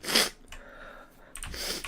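A single sharp sneeze up close, followed by a quieter breathy snort or second sneeze moments later.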